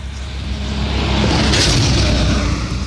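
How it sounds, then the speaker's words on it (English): Steady roar of passing road traffic, a vehicle swelling louder midway and rumbling on, with no talking. "I do apologize for the traffic sounds"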